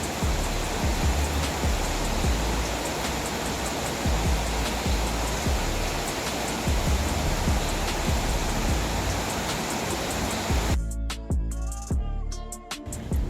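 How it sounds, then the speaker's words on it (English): Heavy rain pours steadily onto the streets of Puerto Vallarta, a dense continuous hiss with splashes, fairly loud and close, thinning out abruptly near the end. "We're finally getting the rain that we've been promised for days."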